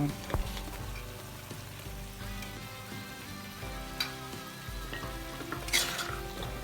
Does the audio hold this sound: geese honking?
no